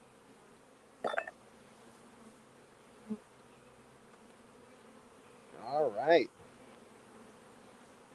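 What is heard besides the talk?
honeybees buzzing at an opened hive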